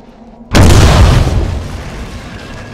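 A bazooka rocket explodes against a tank in the Hidden & Dangerous 2 video game: a sudden loud, close boom that hits at once and then rumbles away over a couple of seconds.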